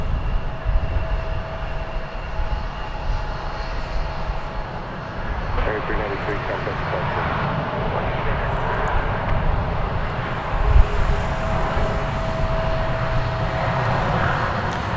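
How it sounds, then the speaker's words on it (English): American Airlines flight 616, an Airbus A321 jet at Dallas Fort Worth Airport, a sustained engine rumble and whine that swells slightly midway, with a brief thump near the end and faint background talk. "Here's an Airbus A321. It is American flight 616 going to Ontario in California."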